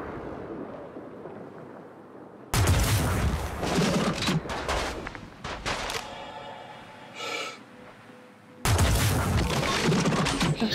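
Heavy sniper rifle fire from the Electron Bolt in the game Star Citizen, with loud, abrupt blasts that begin and end with a sudden cut, crackling bursts in between, and a second blast near the end.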